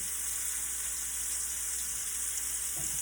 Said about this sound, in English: So this is the second batch of shrimp that I have going ahead searing